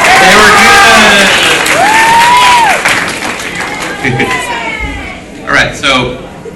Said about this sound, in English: Clap. You're supposed to clap.